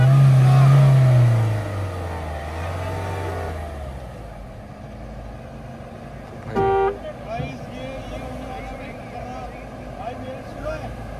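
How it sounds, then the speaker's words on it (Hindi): The engine of a Mahindra Thar off-road SUV climbing a slope roars loudly and close at first, then fades into a lower rumble under outdoor chatter and shouting, with a brief horn-like toot midway. "ये देखते हैं कितना मोमेंटम से गाड़ी कितना ऊपर जा सकती है"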